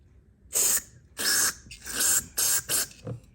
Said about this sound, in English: go ahead and give her a shot of carburetor cleaner